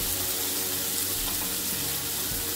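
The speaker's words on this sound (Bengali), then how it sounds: "এখন পেঁয়াজ কুচি দিয়ে দেবো" Chopped onions, with green chilies, sizzle steadily in hot oil in a pan while a prawn bhuna is being cooked, a dense, continuous frying hiss with faint stirring and no voices.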